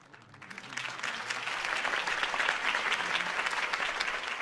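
Crowd applause rises after a political campaign speech in the Batman Telltale Series video game, swelling quickly from quiet and holding as a steady, moderately distant wash of clapping for a few seconds.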